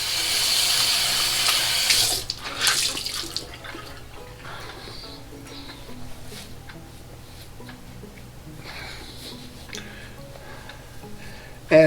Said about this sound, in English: Use some cold water.